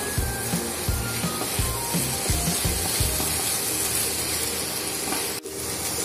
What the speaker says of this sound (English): I'll put the fried potatoes now. Again, I'll stir it.